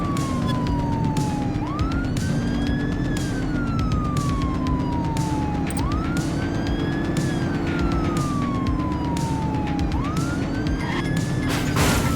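Police car siren wailing in The Precinct video game during a police pursuit, a loud rising and falling tone repeating about every four seconds over steady engine and road noise, with no talk.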